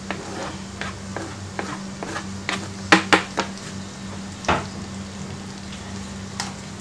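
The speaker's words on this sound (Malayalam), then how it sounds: "അപ്പോൾ ഇനി ചെമ്മീൻ പൊരിച്ച എണ്ണയിൽ തന്നെയാണ് ഞാനിത് സവാളയും വഴറ്റുന്നത്" Finely chopped onions sauté in oil left from frying prawns, a steady sizzle under sharp clinks and scrapes of a spatula stirring against the pan.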